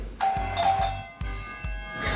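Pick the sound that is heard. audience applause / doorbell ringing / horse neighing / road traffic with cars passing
doorbell ringing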